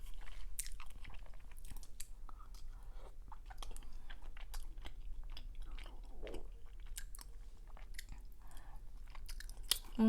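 Someone chews a bite of tteokbokki, spicy Korean rice cakes, close to the mic, with soft wet mastication and small sticky clicks and crunches repeating for ten seconds in a quiet room.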